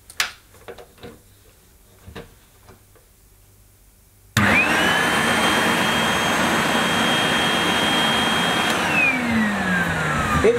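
Vintage 1970s Hoover S3005 Celebrity floating vacuum cleaner switching on after a few quiet handling knocks, then a loud steady motor whine and airy rush that holds to the end, with a faint pitch shift near the close.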